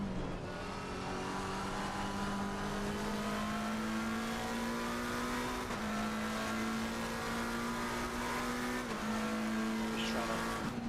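Race car engine in Assetto Corsa Competizione, a steady high-revving drone holding one pitch, with brief shifts and tire noise, loud and continuous throughout with no talk.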